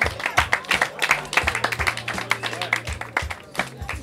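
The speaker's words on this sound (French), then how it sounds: "On peut les applaudir bien fort." Audience at a gentlemen's trophy prize ceremony clapping for the winners, a brisk close patter of many hands with sharp individual claps standing out, steady throughout.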